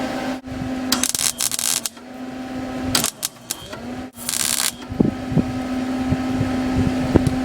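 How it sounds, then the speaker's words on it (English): MIG welding on the damaged flanges of a 1966 Mustang comes in several short, loud crackling bursts of a second or less, separated by pauses over a steady low hum. "But I'm going to go through and weld each one of those."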